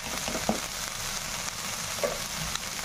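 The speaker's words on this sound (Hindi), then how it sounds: "मसालों के साथ इनको फ्राई कर लेंगे" Boiled corn kernels frying with masala spices in a pan, a continuous near sizzle with a couple of soft stirring scrapes and taps, no talking.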